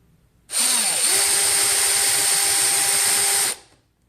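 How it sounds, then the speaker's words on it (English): A power drill bores out a plastic grille clip on a Hyundai Veloster N, running loud and close with a high, steady whine for about three seconds before stopping abruptly. "Let's drill this out."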